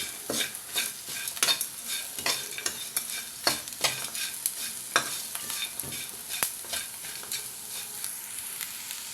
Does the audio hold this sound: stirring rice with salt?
yes